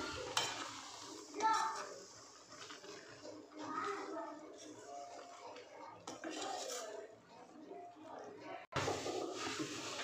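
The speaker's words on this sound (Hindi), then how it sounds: "देखिए घी हमारा गर्म हो गया है, अब हम इसमें ये बेसन डालेंगे। इसको बिल्कुल मंदी आंच पे चलाते जाना है।" Gram flour being stirred in hot ghee over a low flame, with repeated spoon scrapes and clinks against the pan under a quiet sizzle, while someone talks throughout.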